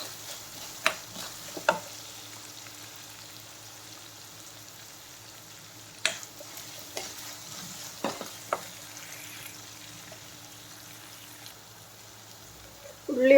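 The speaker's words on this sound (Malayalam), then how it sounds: "അധികം മുരിഞ്ഞ് കറക്കൊന്നും വേണ്ട, ഉള്ളി ഒന്ന് വാടി കിട്ടിയാൽ മതി." Onions soften in a pan for a variety rice dish, giving a soft, steady frying hiss close by, broken by a few sharp clicks and scrapes of stirring.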